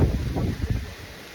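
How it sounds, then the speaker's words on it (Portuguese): Strong gusting wind of around 50 km/h buffets the microphone while a kite is flown outdoors, a close, loud rumbling roar that eases toward the end. "Tá agressivo o vento."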